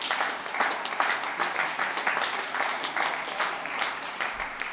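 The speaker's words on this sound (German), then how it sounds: "Ein kräftiger Applaus für euch vier." Applause at a party convention, a dense, steady wash of clapping from a large audience with some louder claps popping out, moderately loud and without talk over it.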